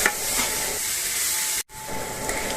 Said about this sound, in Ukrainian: будемо смажити наші шампіньйончики, вже нарізали помішали отак от